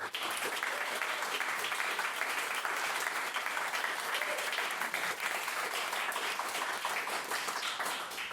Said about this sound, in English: So can I ask another round of applause?